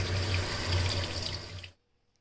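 Running water pours steadily for under two seconds as chillies are rinsed under a tap, then cuts off to near silence.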